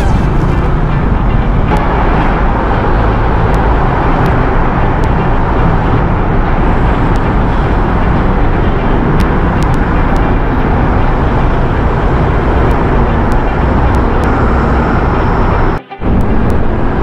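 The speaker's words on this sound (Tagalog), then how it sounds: "Traffic ah! Traffic tayo!" Road traffic on MacArthur Highway heard from a moving motorcycle, a loud continuous roar of engine and wind with a dense traffic wash and a brief dropout near the end.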